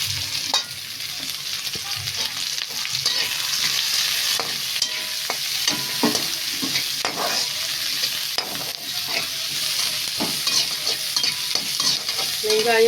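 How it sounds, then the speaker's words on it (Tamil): Long-sliced onions sautéing in ghee in a pan for ghee rice, with a steady, close sizzle and repeated scraping taps of a spoon stirring them. "வெங்காயம் வதங்கணும்."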